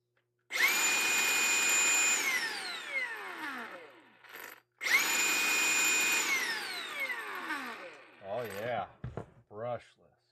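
Cordless Milwaukee brushless power tool fired up twice, each run a loud steady high whine that holds for a couple of seconds and then winds down, followed by brief fluttering mechanical bursts at the end.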